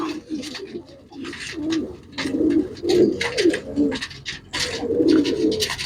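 Pigeons coo close by in repeated throaty, rolling bursts, several birds overlapping in an uneven rhythm with brief pauses between phrases and no voices.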